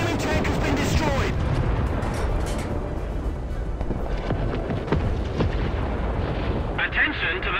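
A destroyed enemy tank explodes in a War Thunder tank battle in Germany, with a heavy, rumbling blast and continuous roaring battle noise that fills the scene while voices talk over it.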